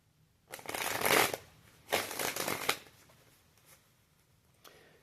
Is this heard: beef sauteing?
no